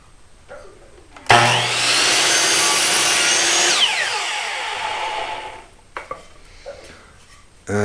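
A hand saw or power saw trims a single blade width off a wooden board for a rustic picture frame, cutting loud and steady for about two and a half seconds, then easing off. Short workshop knocks and handling sounds follow.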